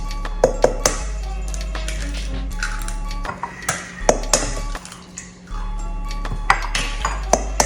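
Eggs cracked one after another for french toast, giving a run of sharp clicks and taps against a bowl, with a light clink of shell or utensil, close and fairly crisp over a steady low kitchen hum.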